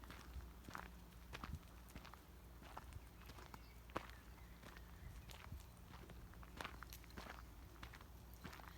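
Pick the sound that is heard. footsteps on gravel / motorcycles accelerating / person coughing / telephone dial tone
footsteps on gravel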